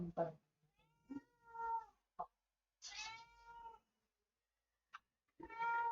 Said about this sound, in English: my cat making a lot of noise over there